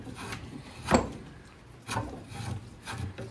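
A draw knife shaves a wooden axe handle in slow, separate scraping strokes, one sharp loud pass followed by softer rasping pulls about a second apart, close by with no speech.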